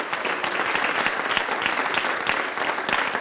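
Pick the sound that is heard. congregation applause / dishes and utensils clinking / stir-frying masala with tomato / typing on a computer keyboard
congregation applause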